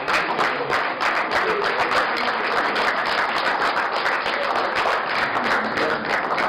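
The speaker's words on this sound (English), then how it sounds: "Big round of applause for them." Steady applause from the audience at a batchmates' reunion in Alibaug fills the room, a dense, continuous patter of many hands clapping at even loudness throughout with no break.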